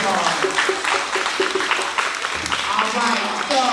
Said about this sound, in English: Let's give Nick a huge round of applause